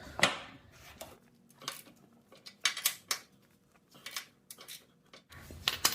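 Wrench loosening a bolt on a Honda Prelude exhaust manifold: a series of sharp metallic clicks and clanks in irregular bursts, close and fairly quiet, with brief pauses between.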